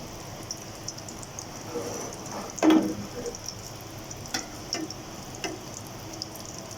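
Three beef shami kababs fry in a pan after being flipped, with a faint steady sizzle, one louder clatter and a few light ticks. A voice may speak quietly in the background.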